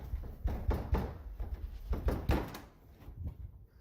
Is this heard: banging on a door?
yes